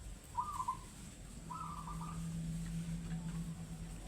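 A zebra dove (perkutut) gives two short, faint whistled calls early on, then falls quiet over a steady low hum and soft background noise.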